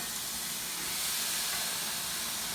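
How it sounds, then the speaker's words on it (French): Vegetables sautéing in a pan make a soft, even hiss of sizzling that rises slightly and holds steady for a couple of seconds, with no voices. "vous faire sauter vos légumes, et vous allez tout rajouter tout ça dans la poêle"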